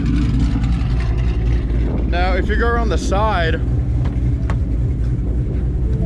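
A car with a ghost cam tune idles with a steady, loud exhaust rumble and a lumpy, uneven throb, heard from behind the car, while someone talks over it.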